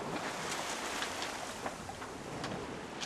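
A 40-foot Nautica yacht sails on the open sea. Steady broadband wind and water rush runs throughout with a few soft splashes against the hull, and no voices.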